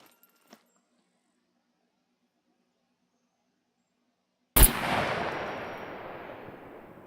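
A single loud, unsuppressed 7.62x39 rifle shot in the video game SCUM cracks sharply after near silence and trails off in a long, fading reverberant tail.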